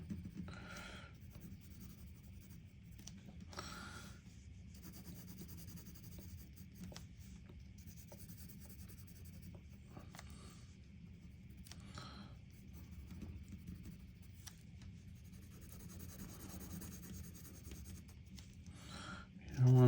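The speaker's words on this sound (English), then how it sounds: "you can take a color pencil and maybe just kind of render out just a little bit" A colour pencil shades lightly across textured, grainy cardstock, a soft intermittent scratching and rubbing close up, in short strokes with quiet pauses between them.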